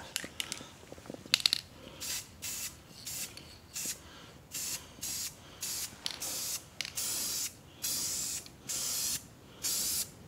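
Aerosol spray paint applied to a car's rear trailing arm with a pressed-in bushing, a series of short hissing bursts in an even rhythm after a few clinks and handling noises.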